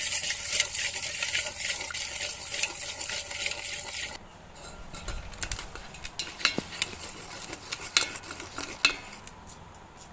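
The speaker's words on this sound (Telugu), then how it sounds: "ఇటువంటి విస్కర్తో ఈ పెరుగుని బాగా బీట్ చేసుకోవాలండి" Plain yogurt is whisked by hand in a bowl with a wire whisk, giving a steady, fast scraping churn that turns to quieter, scattered taps and clinks against the bowl partway through, close by, with no talking.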